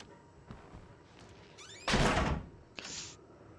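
A door slams hard in the horror game Outlast: a quiet stretch with small knocks, then one loud, close, reverberant bang, followed shortly by a softer second thud.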